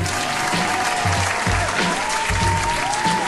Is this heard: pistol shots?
no